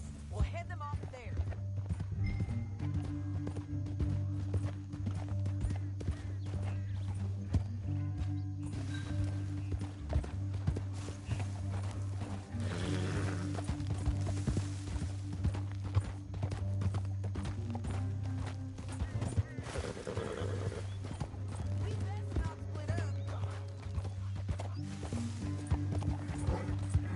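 Horse hooves clip-clop steadily in the Red Dead Redemption 2 video game, a continuous rhythmic patter that runs through the whole stretch beneath a droning musical score and voices talking.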